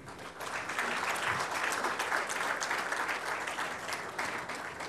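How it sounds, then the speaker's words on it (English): Seminar audience applauding to welcome guests, steady dense clapping from a hall crowd that holds at an even level throughout. "Please give a round of applause for welcoming them."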